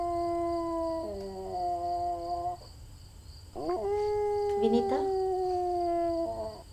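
A dog howls in long, drawn-out wails, with two sustained howls broken by a short pause and some yipping, loud and close, while someone speaks briefly over it.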